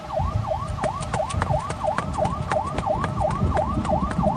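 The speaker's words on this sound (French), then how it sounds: "c'est peut-être les pompiers qui viennent nous chercher" French fire engine siren wailing in a fast, regular up-and-down cycle, repeating over a dozen times, loud and steady over a low engine and traffic rumble, with no talking.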